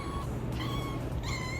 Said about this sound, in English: Does she meow frequently or is she chatty?